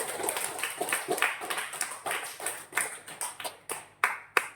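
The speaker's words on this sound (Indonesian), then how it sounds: "Ibu kasih aplaus, kita kasih aplaus dulu" Classroom applause for students' presentations: a small group claps at close range, starting as dense clapping and thinning into a few scattered, sharper claps toward the end.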